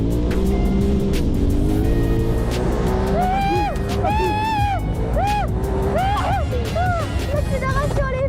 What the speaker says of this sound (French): L'accélération, elle est folle! Oh, le cul, comment il part!